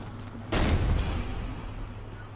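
A pump-action shotgun fires once in the video game Ghost Recon Future Soldier, a sharp loud blast with a rumbling tail fading over a second or two.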